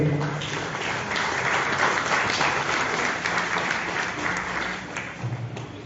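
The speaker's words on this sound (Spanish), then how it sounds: "Fuerte los aplausos, por favor, para ellos." An audience applauds book presenters at an evening tribute event in Chimbote, steady moderate clapping from a crowd that continues evenly before tapering slightly.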